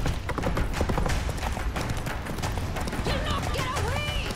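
Roach the horse gallops in The Witcher 3, rapid rhythmic hoofbeats pounding close and loud under battle noise and voices, with shouting speech over the hooves.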